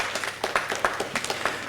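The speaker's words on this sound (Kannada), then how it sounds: "ಅಂತಹ ದೊಡ್ಡ ಮನಸ್ಸಿಗೊಂದು ನಮ್ಮ ಕಡೆಯಿಂದ ಚಪ್ಪಾಳೆ ಇರಲಿ." An audience at an event gives a short burst of applause, many hands clapping in a loose, uneven patter at moderate distance, fairly faint and brief.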